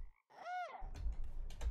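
A frog croaks in the video game Pine: one clear, close, rising-and-falling croak, followed by rustling and soft thumping movement noises.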